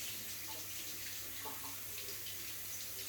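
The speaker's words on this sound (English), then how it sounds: "Now these I'll wash off." Potatoes are rinsed under a running kitchen tap, a steady close splashing stream of water with small shifting gurgles as they are turned by hand.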